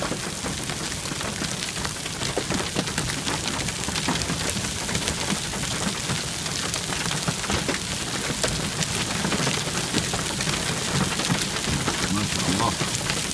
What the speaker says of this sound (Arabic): امطار غزيرة مع برد ولله الحمد